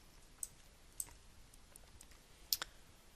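A computer mouse gives a few sharp, isolated clicks at uneven intervals while settings are set up in Fluent simulation software, close and crisp against a quiet background.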